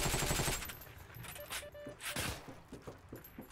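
Game gunfire from Heroes & Generals, a dense burst of rapid shots up front that thins into scattered, sharper reports and clatter, loud and close throughout.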